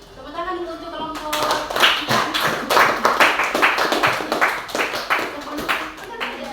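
A class claps for group 4 during an online lesson, a dense burst of many hands that starts suddenly after a brief moment of talk and keeps going steadily, loud and near.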